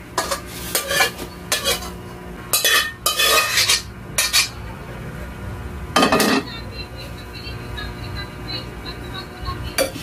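Cooked dinuguan is moved into another dish with a metal utensil, giving repeated loud scrapes, clinks and knocks against the pot in irregular bursts, close by, with pauses of quieter background in between.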